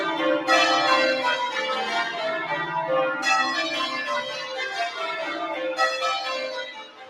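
Church bells pealing loudly on Cheapside in London, a dense, continuous ringing with fresh strikes swelling in at regular intervals, close and full, with no talk over them.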